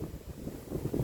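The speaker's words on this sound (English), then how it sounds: "Wind's really getting up now," Strong wind gusting across an open December allotment beside a ditch and field, a steady low rumbling buffet on the microphone that swells louder toward the end, with no talking.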